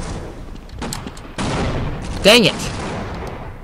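Rapid gunfire in the Half-Life video game, a dense burst of overlapping shots that grows louder partway through, while someone shouts briefly over it.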